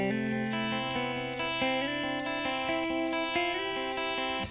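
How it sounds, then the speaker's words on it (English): A clean, effects-laden electric guitar plays the first riff of a song, bright arpeggiated notes ringing into one another with chorus and reverb, close and steady throughout. "So all in all, this first riff"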